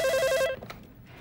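A telephone rings in a Chongqing dialect sitcom: a short, loud warbling electronic ring tone that stops abruptly, leaving faint room noise.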